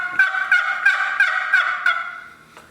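A turkey box call rattles out six quick, evenly spaced gobbling bursts imitating a gobbler, loud and close, ending with a short final scrape.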